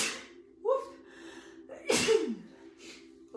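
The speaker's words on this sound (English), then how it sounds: "I'm gonna sneeze" A woman sneezes twice during a chair yoga session indoors, two sharp bursts about a second apart, each preceded by a quick inhaled gasp, close and clear with faint voice between.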